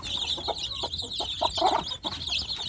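Young village chicks cluck and cheep steadily near a feeding spot, with repeated soft calls over a constant background hum and no speech.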